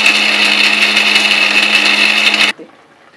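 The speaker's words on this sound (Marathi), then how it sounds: "खोबरं टाकलंय मिक्सरमध्ये बारीक करून घेते" A kitchen mixer grinder whirs loudly and steadily as it grinds coconut, a dense high-pitched motor roar that cuts off abruptly near the end, leaving near silence.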